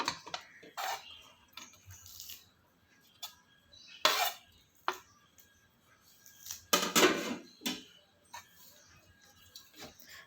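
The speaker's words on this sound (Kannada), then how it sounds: "ಇವಾಗ ಮಿಕ್ಕಿರೋ ಗೊಜ್ಜಿಗೆ ರೈಸ್ ಮಿಕ್ಸ್ ಮಾಡ್ಕೊಳ್ಳೋಣ." Rice being mixed into tamarind gojju paste for puliyogare, heard as scattered clinks and scrapes of a spoon against a metal vessel, irregular and close, with brief louder knocks around four and seven seconds.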